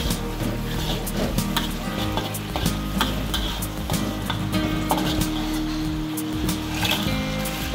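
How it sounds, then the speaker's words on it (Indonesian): Petai stir-fried in a hot pan for a vegetarian mushroom-stem sambal, a loud continuous sizzle broken by repeated scrapes and clacks of the spatula stirring. "Tumis lagi."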